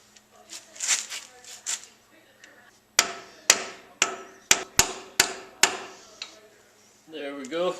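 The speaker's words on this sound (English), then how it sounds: "Now I'm just going to pound it in until it pushes up against that seal saver a little bit." An axle seal is driven into a car's rear axle housing with a seal tool, giving a series of sharp metallic hammer blows at an uneven pace. Someone speaks softly before and after the strikes.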